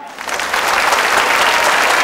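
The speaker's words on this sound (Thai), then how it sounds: "ขอเสียงเชียร์เชฟจุมพรครับ" An Iron Chef Thailand studio audience bursts into loud, sustained applause and cheering for a chef, a dense wash of clapping that swells quickly and holds steady.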